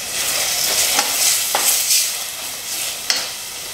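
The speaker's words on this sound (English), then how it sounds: "So I'll allow the tomatoes to cook." Tomatoes sizzling in a pan for a chickpea curry: loud, continuous hiss of frying, close up, with a few soft stirring knocks scattered through, no one speaking.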